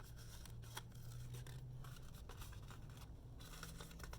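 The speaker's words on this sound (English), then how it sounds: "I'm going to have to cut out a larger circle here" Scissors snip out a larger circle of craft material for a Halloween cone, a run of quiet, close cuts and soft rustles with brief pauses between them.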